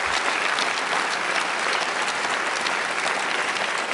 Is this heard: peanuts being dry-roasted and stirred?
no